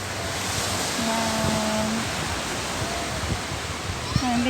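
Ocean waves wash onto a beach in a steady broadband rush, with faint tonal hums drifting through and a brief voice in the background.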